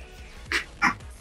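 Two short, sharp dog barks about a third of a second apart, fairly close, over a quiet background.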